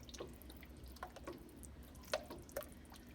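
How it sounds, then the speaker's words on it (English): Water trickles and drips into containers being rinsed of leftover pasta sauce in a home kitchen, with faint scattered splashes and taps over a low steady background hum. "I'm gonna put a little water in these and get the rest of it out"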